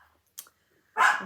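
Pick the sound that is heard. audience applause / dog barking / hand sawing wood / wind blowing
dog barking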